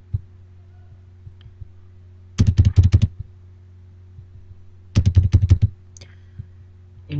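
Typing on a computer keyboard while entering an Excel 2010 trim function: two short bursts of quick, close key clicks, about half a dozen strokes each, over a low steady hum in a quiet room.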